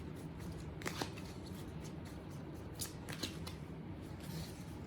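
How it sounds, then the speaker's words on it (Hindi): Tarot cards are shuffled and drawn by hand, with faint soft riffling and several crisp flicks of cards over a quiet background hiss. "मैं कुछ कार्ड्स और निकाल लेती हूँ, फिर एक साथ बताऊंगी।"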